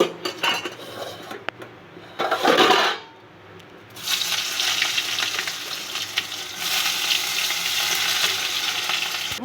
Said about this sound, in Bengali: এখন বেগুনটা ভেজে নেব।